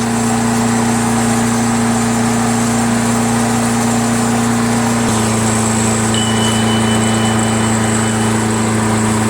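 A Craftsman mower with a Briggs & Stratton Quantum 6 HP engine runs loud and close. Its hum stays steady and even with no surging, and the pitch drops slightly about halfway through before holding there.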